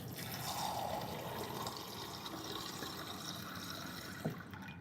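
A kitchen tap runs steadily with tap water pouring in a continuous splashing stream, close and fairly quiet, with a small clink near the end.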